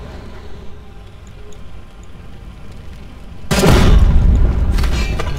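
Gunfire in the survival game The Front enters as a loud, sustained rumbling barrage partway through, following a low, steady background din.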